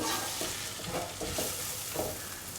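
A spoon stirs spices, salt, turmeric and coriander powder into a black-eyed bean and capsicum stew in a pan, with soft scraping strokes repeating over a steady low sizzle.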